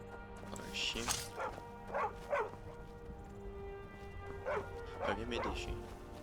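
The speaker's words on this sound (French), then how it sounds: "Un chien." A dog barks in the video game Skyrim, several short yips and barks in two clusters, moderately close and mixed under ongoing game sound and background noise.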